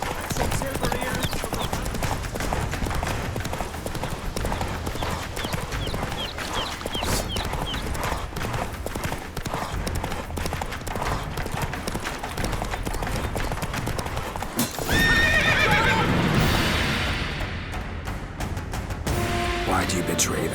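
Hooves of a galloping horse clatter steadily in The Witcher 3 game, loud and close, with shouting voices over them and a burst of clashing action near the end.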